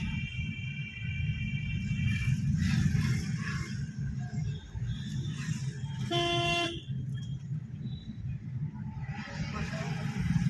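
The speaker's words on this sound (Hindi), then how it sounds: "इनको हॉर्न दो भाई साहब को" A Hyundai i10 horn honking in light morning street traffic during a driving lesson: a few tonal toots early, then a clear short honk midway, all over steady road and engine noise.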